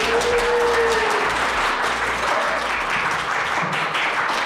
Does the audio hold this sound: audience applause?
yes